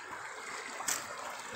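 A river flows over stones along its bank, a soft continuous rushing wash that stays steady throughout, with one brief brighter splash midway.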